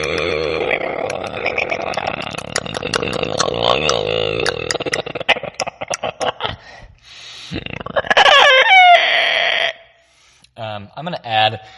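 A voice imitates an umber hulk, a hulking underground monster, with guttural growls and grunts swinging between low and high pitch, broken bursts leading into a louder rasping roar and then a few short snarls.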